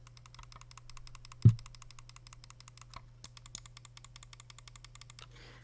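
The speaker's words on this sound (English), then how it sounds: "The G Pro Wireless side buttons." Side buttons on a Logitech G Pro Wireless mouse click in a fast, even series of sharp, close clicks over a low steady hum, with one louder thump partway through.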